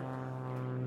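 A white and blue Starduster biplane flying, its propeller engine giving a steady droning hum with no break, fairly faint.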